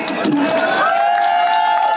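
Crowd noise at a political rally in Ambala, a dense roar of cheering voices with some clapping mixed in, loud and continuous throughout, with a sustained shout rising out of the mass.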